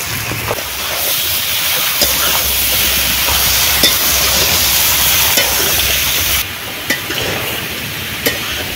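Onion, eggplant and potato hit hot oil in a frying pan, giving a loud, continuous sizzle with scattered stirring clicks and scrapes, easing briefly near the end before resuming.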